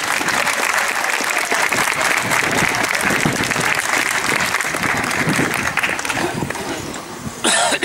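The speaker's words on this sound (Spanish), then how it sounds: "un aplauso para ellas" Audience applause at an International Women's Day institutional event in Tembleque, a dense, loud burst of clapping filling the room continuously for several seconds, with a cough or two and a brief dip near the end.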